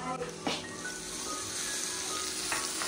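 A fried egg sizzling in a pan, a steady soft crackling hiss at low level with faint clinks, no voice over it.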